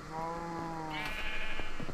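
A sheep bleats in the video game Minecraft, one clear wavering bleat close by, heard alone with no talk over it.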